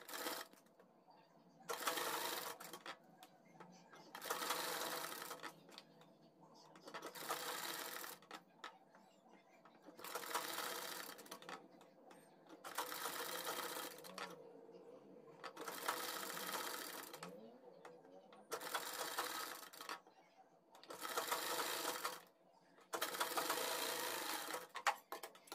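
A sewing machine stitches piping onto a kurti neck, running in about nine close, loud bursts of rapid stitching separated by short pauses.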